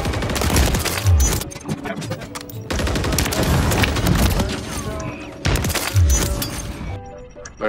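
Rapid automatic gunfire and explosive bursts from the video game Call of Duty MW3 in a Search and Destroy match, dense clattering volleys repeating in clusters, loud and close.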